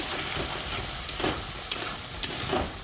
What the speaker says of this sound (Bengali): তারপর মশলাটাকে আরও কিছুক্ষণ কষিয়ে নিতে হবে।